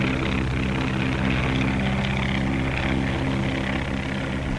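A 1935 skywriting propeller airplane drones overhead with a steady, loud, continuous engine hum and no break across the whole stretch, with no voices.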